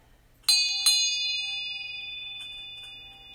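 A small bell called the Bell of St. Mary is struck twice in quick succession in a quiet room, bright metallic tones ringing out and slowly decaying over a few seconds, followed by faint light taps.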